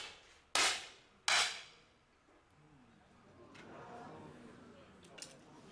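Two sharp, loud air pistol shots ring out about a second apart at a 10 m women's shooting competition, followed by a quiet hall murmur and faint clicks.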